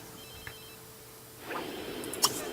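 A telephone rings in The Sims 3, a short faint electronic ring over quiet game ambience, followed by a brighter chime near the end.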